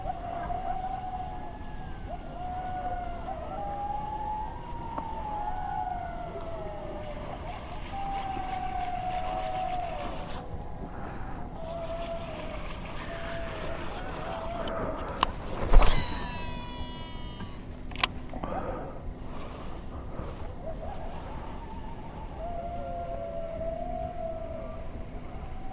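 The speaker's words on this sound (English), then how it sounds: "Sounds like some coyotes behind me somewhere." Distant coyotes howl in long, wavering, rising and falling calls near a boat ramp by the water. A brief clattering burst cuts in midway, and the howls resume faintly afterward.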